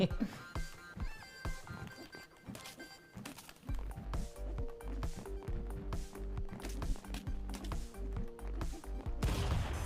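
Rapid bursts of gunfire in the game Stick Fight crackle in quick succession, mixed with game effects and music, with a voice talking over parts of it.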